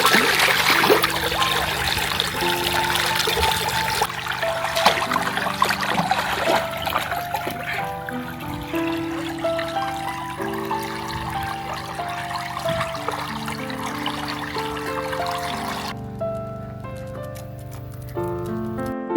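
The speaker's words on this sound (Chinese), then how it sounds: "我得抓紧最后一点比较凉快的时间给菜园浇水" Water trickles and patters steadily onto a rural vegetable garden bed of newly sown autumn seedlings. The flow is close and fairly loud, and a musical backing plays underneath with no speech.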